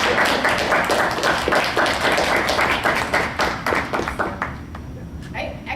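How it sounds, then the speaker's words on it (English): An audience applauds in a classroom or meeting room, dense steady clapping from many hands that carries on for several seconds and then thins and fades out, with some voices mixed in. "And we can give her a hand clap just to acknowledge that."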